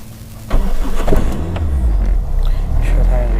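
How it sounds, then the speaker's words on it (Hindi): A Toyota Cressida RX80 car engine starts and settles into a steady idle, a low continuous rumble close by that grows louder about half a second in, with someone talking over it. "गाड़ी तो स्टार्ट हो गई है हमारी, थोड़ा सा टेम्परेचर हो जाए सेट।"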